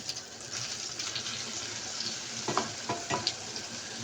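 An eggplant omelette with cheese sizzles steadily in a frying pan, a continuous hiss broken by a few sharper scrapes and clatters near the end as it is turned over.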